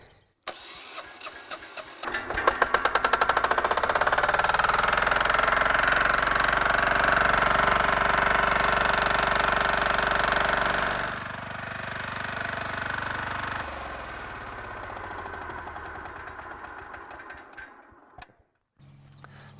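An engine-driven pump for a small feedlot vegetative treatment system cranks and starts, then runs at a steady loud drone for several seconds before dropping to a lower rumble and shutting off, heard close outdoors.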